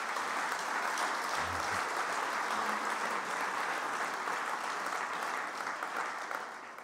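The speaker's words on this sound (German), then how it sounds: "Kleiner Applaus für alle Helferinnen und Helfer" Sustained applause from an audience at an annual event, honoring helpers: a dense, even wash of many hands clapping for several seconds, slowly thinning toward the end.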